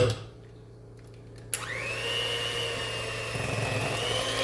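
An electric blender whirs through cheesecake batter with eggs and peppermint added, kicking in abruptly with a loud jolt after a quiet start, then holding a steady, high motorized drone to the end.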